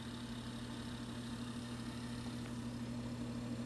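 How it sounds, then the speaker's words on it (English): Cooling fan of a 1978 Sears Betavision VCR drawing in air, a steady, quiet hum with a faint whooshing airflow and no interruptions. "Cooling fan, sucking in air right there."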